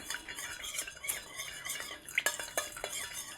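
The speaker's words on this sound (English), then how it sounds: "then you just want to stir to get everything melted" Oils and wax melting together for a salve, stirred with a utensil against the pot, producing soft scraping and light metallic clinks, quiet and close with a faint hiss.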